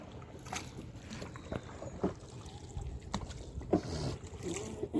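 Wooden rowing boat moving on a river in the Sundarbans, with irregular soft water splashes and creaks under steady wind noise, a few sharper knocks standing out near the end.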